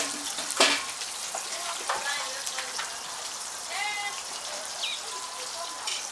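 Onion frying in a pan while meat pie and fish roll are being made, with a soft crackling sizzle, a few clinks and light stirring, and brief bits of background voices.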